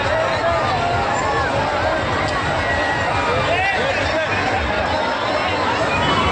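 A crowded Sunday fairground in Solapur near a giant wheel, filled with continuous overlapping babble from many people and faint shouts, steady throughout.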